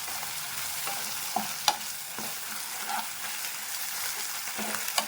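Ginger garlic paste fries with onions in a pan for mutton cashew fry, giving a soft steady sizzle under several light scraping stirs and taps of a spoon, close by with no voices.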